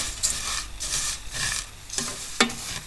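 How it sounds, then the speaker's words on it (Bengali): Laccha semai vermicelli frying in ghee is stirred in about five rhythmic scraping strokes over a steady, close sizzle, ending in a sharper knock. "এভাবে নেড়ে চেড়ে এটাকে সুন্দর সোনালি কালার করে ভেজে নিব।"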